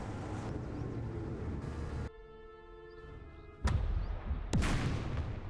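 Matilda tank in the video game Second Front firing its main gun, a loud sharp report near the end over a rumbling engine and battlefield din, with a tonal hum in the middle.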